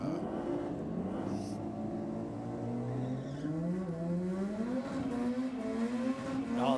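A race car engine at a burnout event revs hard in repeated rising and falling sweeps, loud and continuous, with the note climbing sharply toward the end.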